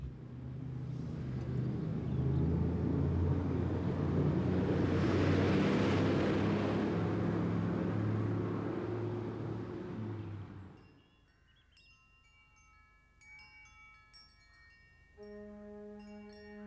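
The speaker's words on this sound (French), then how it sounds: "La voiture arrive." A car arriving, heard as a loud, steady engine rumble close by for about ten seconds. The rumble then fades out and gives way to quiet music.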